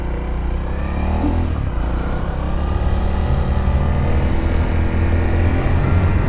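A 2025 Honda CRF300L motorcycle is ridden on a test ride, its engine a steady, continuous rumble heard up close with wind noise and no talk.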